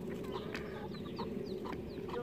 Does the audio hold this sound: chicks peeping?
yes